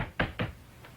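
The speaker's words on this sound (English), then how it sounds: "Knock on wood." Knuckles rap twice on wood in quick succession, close and crisp, followed by a fainter third tap, with no talking over it.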